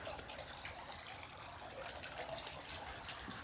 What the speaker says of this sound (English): view of the gorgeous custom water fountain